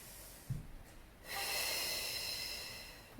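A forceful breath pushed out through the nose and mouth during a prenatal workout, one long close airy rush following a brief snort-like intake, alone without talk.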